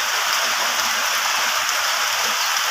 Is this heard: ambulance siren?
no